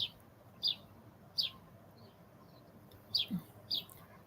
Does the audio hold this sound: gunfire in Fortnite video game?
no